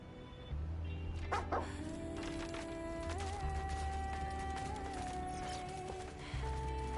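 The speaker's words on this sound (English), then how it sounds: "Okay, a robot dog. And it's not Mega Man's robot dog." Robot dog barking in the video game Stellar Blade, a few yips and barks over a steady game soundtrack with low droning music throughout.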